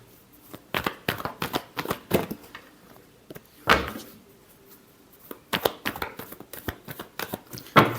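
Tarot cards being shuffled by hand in quick, close, papery bursts that come in irregular clusters with short pauses between them.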